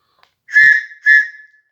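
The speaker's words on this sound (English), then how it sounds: "see how loud the whistle is?" Two sharp, loud blasts of a shrill survival whistle, the first longer, the second shorter, each ending quickly in an otherwise quiet space.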